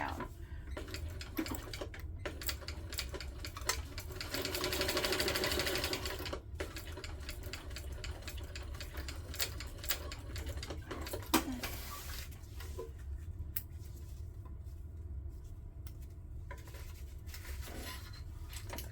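A hand-cranked sewing machine stitches a crossbody hip bag, its needle making a steady close mechanical patter with a louder burst partway through, then quieter intermittent clicks and light handling noises, with no talking.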